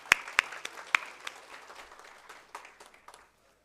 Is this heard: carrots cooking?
no